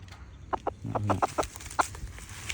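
Decoy chickens clucking in a series of short, sharp calls with brief pauses, some louder than others, along with a lower throaty rumble partway through; no talking.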